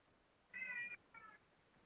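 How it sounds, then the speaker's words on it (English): Two loud cat meows close by, a long wailing one followed after a short pause by a shorter one, over a low background hiss. "Really loud cats."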